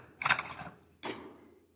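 The handle of a battery-powered pressure sprayer for disinfecting is screwed down tight, two quick close mechanical clicks or ratchet turns about a second apart, quiet and dry.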